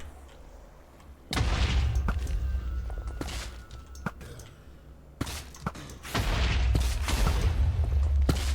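A Minecraft explosion, likely a creeper blowing up, arrives as sudden loud broadband booms in a couple of bursts, with quieter game sounds and clicks in between.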